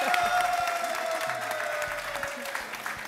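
Crowd applause during a couples game show, a continuous wash of clapping with a tonal hum and background voices mixed in.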